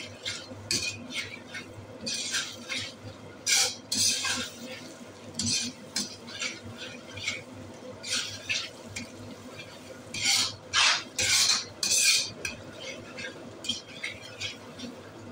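Spoon stirring yogurt gravy in a cooking pan, scraping and clinking in short repeated bursts with a soft liquid slosh, moderately close, without talk.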